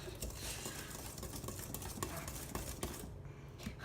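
Vegan chocolate cake batter stirred by hand in a bowl, a quiet steady scraping and sloshing with small clinks of the utensil, close and soft with no talking.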